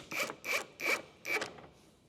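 Four short rhythmic rasping strokes of a spanner or Allen key tightening roof rack mount bolts on a Nissan GU Patrol, close and fairly quiet, spaced evenly with brief pauses.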